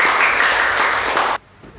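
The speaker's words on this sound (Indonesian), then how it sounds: "Tepuk tangan buat kalian semua." Students in a sociology class burst into loud, dense applause for about a second and a half before it cuts off abruptly to near silence.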